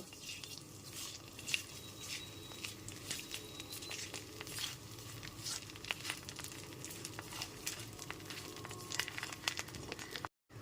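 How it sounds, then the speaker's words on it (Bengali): Cumin seeds, bay leaves and a halved dried chili frying in oil over a low gas flame, a soft crackling sizzle with scattered pops and spatters, close and steady with no voices. "ওয়ান স্পুন গোটা জিরে দুটো তেজপাতা দিয়ে দিলাম আর একটা শুকনো লঙ্কা আমি দুটুকরো করে দিয়েছি এবার গ্যাসের ফ্লেমটা লোতে রেখে হালকা করে ভেজে নেব"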